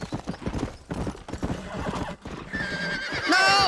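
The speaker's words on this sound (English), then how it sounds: "Get on the horse." Horse hooves clip-clopping and a horse neighing in the Western video game Red Dead Redemption, steady hoofbeats under game sounds, then a loud whinny rising near the end.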